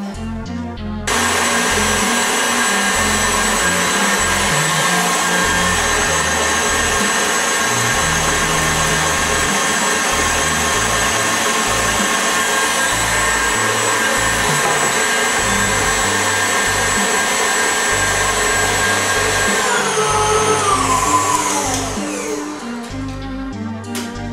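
A kitchen mixing machine whirs loudly and steadily for about twenty seconds while beating a sugar mixture for a Montpensier cake, its motor pitch holding steady and then winding down as it is switched off, close by with no talk.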